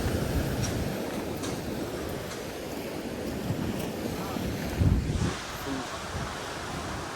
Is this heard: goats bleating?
no